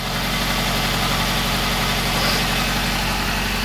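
Tofaş Doğan car engine idling steadily right after its first start in two and a half months, a continuous close, loud low rumble with even vibration throughout and no voices.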